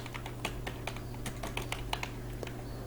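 Rapid, uneven keystrokes on a computer keyboard while entering data into an Excel form, close and continuous, with a steady low hum underneath and no talking.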